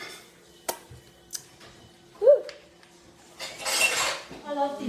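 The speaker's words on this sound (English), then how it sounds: "You have to do these dishes." Dishes and cutlery clink and clatter in sharp, scattered knocks during washing up at a kitchen sink, with running water hissing toward the end and voices speaking briefly.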